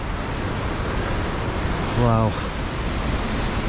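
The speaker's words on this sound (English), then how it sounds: "I've been listening to the water gushing" Monsoon-swollen river water gushes steadily through a Nepal valley on a trek, a loud, dense, continuous roar close by, with a person briefly exclaiming over it midway.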